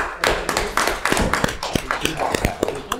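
People at a town council meeting give a short, sparse round of applause, with a few distinct hand claps and taps at close range.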